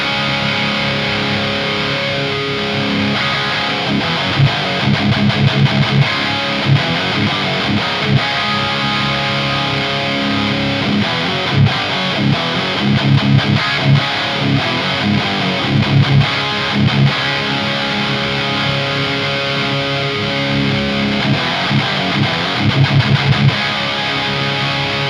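Electric guitar played through a Bondi Effects Sick As Overdrive pedal set for high gain, a loud, thick distorted tone with sustained chords and rhythmic chugging through a valve amp, no talking.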